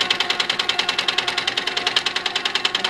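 A sewing machine stitches a quilt in a steady, rapid mechanical rhythm, running continuously and close up with no talking.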